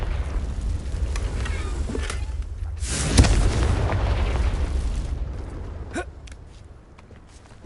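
The Confringo spell explodes in Hogwarts Legacy as one big blast that lands about three seconds in, rumbling over a steady wash of game noise, followed by a fading tail and a smaller crack near the end.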